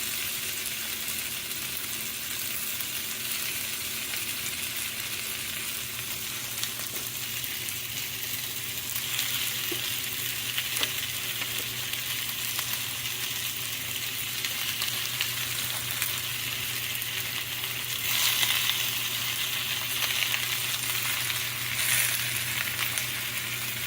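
Grunt fish fry in a pan with a steady sizzle, while occasional scrapes and stirring sounds come through as the pieces are flipped and mixed; nobody speaks.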